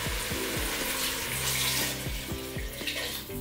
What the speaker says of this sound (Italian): Aggiungiamo acqua fredda.